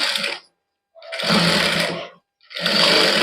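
A close sewing machine stitches the neckline of a suit in three quick bursts, each one a loud, even whirr, separated by brief silences.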